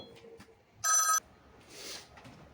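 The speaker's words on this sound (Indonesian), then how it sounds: "Sebentar, ada telepon." A telephone bell gives one short, loud burst of ringing that stands out clearly over a quiet, faintly noisy room.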